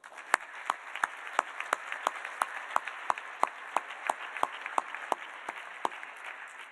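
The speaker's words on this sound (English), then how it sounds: "Let's give them a round of applause." An audience at a university senior celebration ceremony applauds the faculty with a run of sharp, evenly spaced claps over a soft wash of crowd noise, with no talking.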